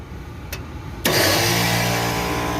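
An old, noisy Trane HVAC unit in test mode kicking on with a sudden loud start, then a steady droning mechanical roar with tonal hum, up close and without speech.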